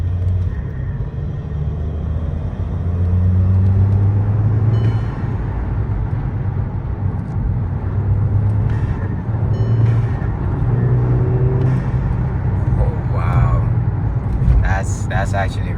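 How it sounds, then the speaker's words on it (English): A VW MK5 fitted with a cold air intake accelerates hard in third gear, its loud, steady engine drone and intake rumble building and holding close throughout. "I'm gonna do a pull in third gear."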